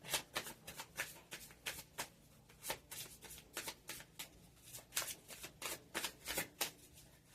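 A deck of cards is shuffled repeatedly by hand, producing rapid riffling bursts and snaps in an irregular rhythm, close and fairly quiet, with no talking.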